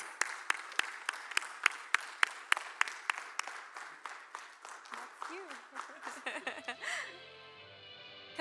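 An audience applauds an award winner at a healthcare leadership awards event, heard as a steady run of sharp claps that thins out. A melodic whistle-like tone and noisier sounds follow near the end.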